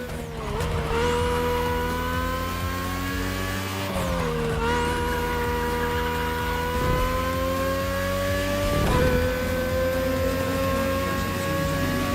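A car engine races in The Crew Motorfest, revving high and steady with rising pitch sweeps at gear changes, a sustained loud whine with faint tire noise and no talk.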